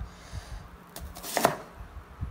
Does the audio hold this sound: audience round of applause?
no